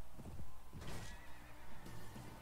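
A horse whinnies loudly in Mount and Blade: Warband, with hoof clip-clops and battle noise around it, nearby and clear.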